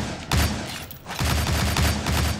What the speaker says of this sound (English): Press B to fire